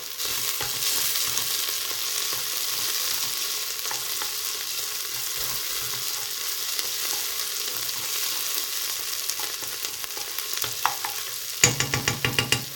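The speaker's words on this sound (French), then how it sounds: "Donc là, j'ai un peu baissé le feu sur mes oignons." Onions fry in a pan over lowered heat, giving a steady, loud, even sizzle; near the end a utensil stirs them with a short run of scraping knocks.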